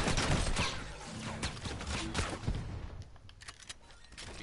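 Video game gunfire, with dense rapid shots crackling close and loud at first, then thinning into scattered sharp reports.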